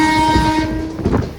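An electric train runs on the Kollam to Aryankavu line, its loud sustained horn sounding for most of the moment, then fading into rumbling wheel and carriage noise close by.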